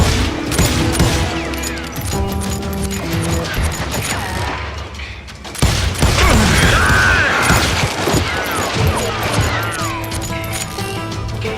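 Gunfire in the Western shooter Call of Juarez Gunslinger, repeated loud shots and crashing impacts over a tonal music score, with a heavy burst of blasts midway.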